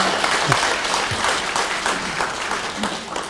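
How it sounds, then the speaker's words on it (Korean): An audience at a book concert gives a round of applause, many hands clapping close and fairly loud, fading slightly toward the end, with a faint voice briefly underneath. "큰 박수 부탁드리겠습니다"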